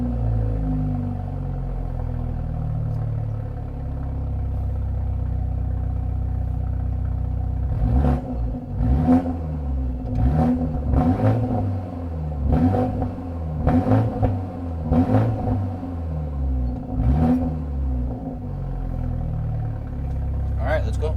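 A 2023 BMW 330i LCI with a resonator delete, heard from outside during a semi-cold start, idles with a deep, steady grumble, then gives about seven quick, sharp throttle blips that each rise and fall back to idle.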